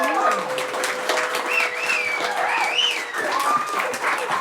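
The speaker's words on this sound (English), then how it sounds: "clap your hands." An audience claps during a live comedy podcast, steady mid-level applause under a speaking voice throughout.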